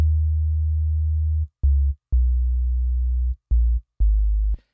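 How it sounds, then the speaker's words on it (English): Clean, deep sine-wave sub bass from a wavetable synth set to mono with a short release, playing a bass part as a run of sustained notes split by short gaps, alone and fairly loud. "Now we have the same bass part here with the wavetable set to a sine wave"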